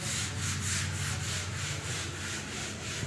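Quick, regular back-and-forth scraping of sandpaper over a skim-coated wall, close and steady, with a low hum underneath and no speech.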